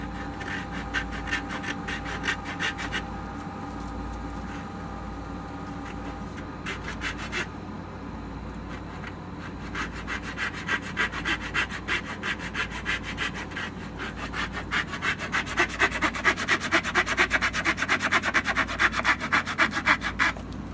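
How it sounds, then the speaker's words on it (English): A Harbor Freight hacksaw with a fixed blade cuts through hard wood in steady, rapid back-and-forth strokes, loud and close, running continuously with a short pause partway through and no talking. "I'm gonna test out these two saws, the one with the changing blade and the fixed blade one"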